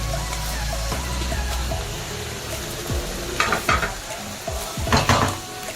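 Chopped onion sizzles in oil with minced mutton on a tawa, a steady fry broken by scraping spatula strokes and a few louder clatters of metal near the end.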